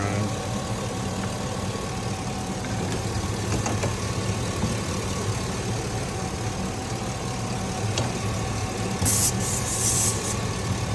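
A GMC Yukon engine idles steadily during air-conditioning troubleshooting, producing a constant low mechanical hum with faint ticks and a brief hiss near the end, no speech audible.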